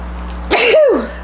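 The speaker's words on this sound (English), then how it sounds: "Now, I gotta sneeze." A single short sneeze bursts out close and loud against a quiet room, with a brief noisy burst followed by a falling voiced tail.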